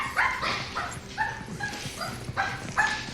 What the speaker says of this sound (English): See, the dog is happy. See, he wasn't yelping.